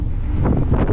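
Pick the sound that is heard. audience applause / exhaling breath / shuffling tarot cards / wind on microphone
wind on microphone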